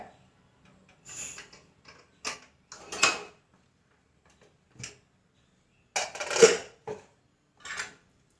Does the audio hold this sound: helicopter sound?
no